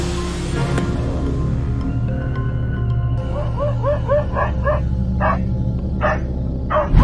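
A dog facing a leopard near a residence by the forest yips and barks in short repeated bursts over a steady low hum, moderately close, the calls growing more insistent toward the end.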